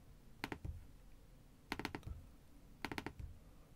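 Short bursts of typing on a computer keyboard arrive in three quick clusters of clicks, quiet and close, separated by brief pauses, with no voices.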